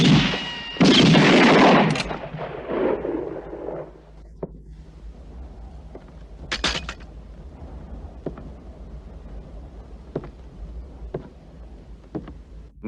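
Gunfire in a French feature film about a hitman: a loud, dense burst of shots opens the scene, then single sharp cracks ring out one at a time over a quiet background.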